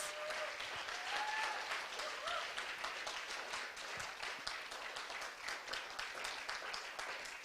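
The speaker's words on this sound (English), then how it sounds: "big round of applause." Sustained audience applause at a Bhagavad Gita summit keynote, a steady, fairly distant wash of many hands clapping with no talk over it.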